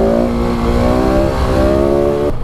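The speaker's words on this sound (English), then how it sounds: "just sitting at these A roads at 60 mile an hour, the bike is absolutely cruising" A 2019 KTM 690 Enduro R motorcycle cruising at about 60 mph on an A road: a loud, steady engine drone with a rising tone that cuts off abruptly near the end.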